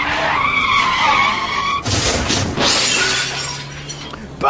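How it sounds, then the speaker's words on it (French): A car screeches into a skid and crashes with a loud burst of shattering glass and crunching impact, preceded by a couple of seconds of busy background din, the crash noise fading into a low rumble. "Voilà une voiture, poussez-vous."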